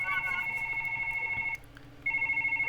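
A telephone in a small office space rings in a steady electronic trill, loud and close, breaking off briefly before the ring resumes.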